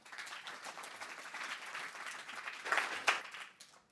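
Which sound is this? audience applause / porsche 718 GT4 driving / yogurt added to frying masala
audience applause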